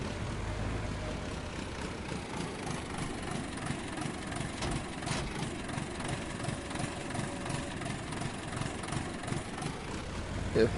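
An old-fashioned tractor with a front loader in Farming Simulator 2019 chugs along, its engine a steady low rumbling drone throughout with slight pulsing and no talk.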